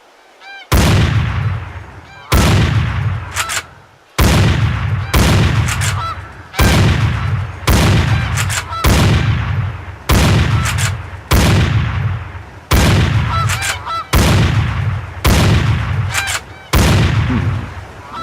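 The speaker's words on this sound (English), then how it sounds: "Here comes a flock of geese. Let's see how you handle that shotgun." Repeated loud shotgun blasts in a goose-hunting video game, about a dozen sharp reports at regular intervals, each trailing off into a short decay, with faint honking of a flock of geese between shots.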